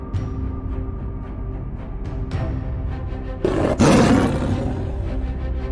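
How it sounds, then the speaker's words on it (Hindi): Tigers roar in an animated story set in the Sundarbans jungle. A low rumbling growl builds under a background score, then a loud, close roar bursts out and sustains for about a second. "बाघ उन्हें देख लेते हैं और उनका पीछा करना शुरू कर देते हैं।"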